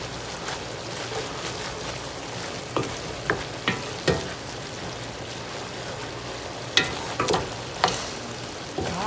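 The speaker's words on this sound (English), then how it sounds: "we're going to give that a nice stir" Collard greens with apple cider vinegar being stirred in a pot, giving a steady wet sizzling hiss broken by a series of sharp scraping clicks from the spoon against the pot.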